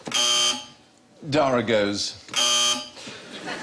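Electronic buzzer sounds from a QI panel game show: a loud, harmonic tonal buzz, then a speaking voice, then a second similar buzz, with talk between and after.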